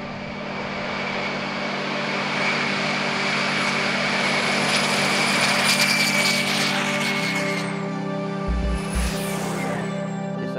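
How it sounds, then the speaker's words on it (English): A loud, steady roar from a homemade jet engine with afterburner on a go-kart, a high whine on top, shifting pitch midway as it revs, close and continuous. "It's a homemade jet engine."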